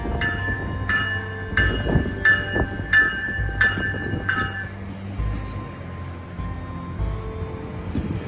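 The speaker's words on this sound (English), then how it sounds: "We got CN L544 heading north." CN freight train L544 rolling north past a platform, a loud steady rumble with a regular series of wheel clicks over rail joints that fades into continuous rolling noise, no voices.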